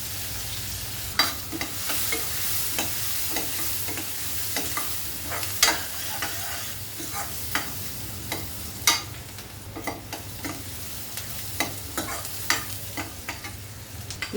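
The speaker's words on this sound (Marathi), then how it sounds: "कांदा छान परतला गेला आहे" Chopped onion sautéing in oil with mustard seeds, cumin, asafoetida and turmeric for a raw jackfruit curry, a steady sizzle with repeated spatula scrapes and light taps throughout.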